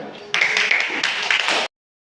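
A classroom audience breaks into a short round of clapping at the close of a school lesson presentation, a dense burst of hand claps lasting just over a second before stopping abruptly.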